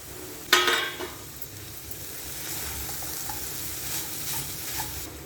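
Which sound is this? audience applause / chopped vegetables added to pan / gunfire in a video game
chopped vegetables added to pan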